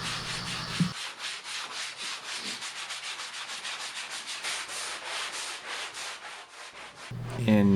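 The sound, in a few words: sanding wood table with 220 grit sanding sponge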